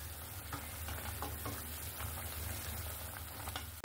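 Sweet, sour and spicy mango pickle simmers in a pot, a soft, steady bubbling sizzle at low volume with faint stirring scrapes, and a brief clunk right at the end.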